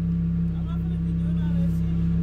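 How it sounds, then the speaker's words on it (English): A car engine idling with a steady low hum and slight rises in pitch, close by, while someone talks over it. "You see me, you hear me revving it?"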